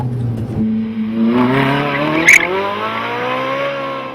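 A Ferrari accelerates hard out of a second-gear hairpin, its engine note climbing steadily in pitch, loud and close, with a brief tyre squeal midway and no talking.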